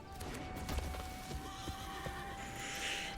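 Shadowfax, Lord of Horses card in MTG Arena plays a loud, close horse whinny and neigh with a clip-clop of hooves, filling the whole clip with no talk over it.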